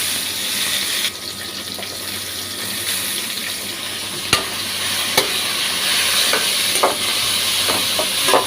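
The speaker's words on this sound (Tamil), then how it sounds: "நல்லா வதக்கணும்." Chopped ivy gourd sizzles and hisses in hot oil, a steady frying sound with occasional sharp clinks of a spoon stirring the pan.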